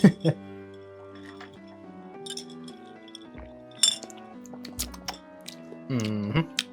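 A Long Island Iced Tea cocktail is stirred in a glass, giving several bright clinks and rattles of ice against glass, with a person talking throughout.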